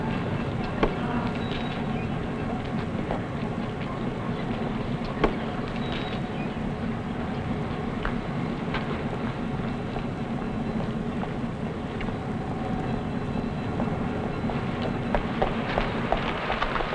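A train idles at a station in a 1950s television drama, a steady low mechanical rumble with scattered clanks and clicks from the platform.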